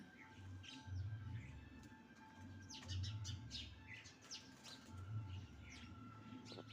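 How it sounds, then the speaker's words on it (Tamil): House sparrows chirp among the branches of a tree in Kodaikanal, a scattering of short, bright tweets repeating irregularly at moderate distance, with a low cooing bird call pulsing underneath and no talking. "இந்த குருவிகள் நிறைய சவுண்டு கேட்குது"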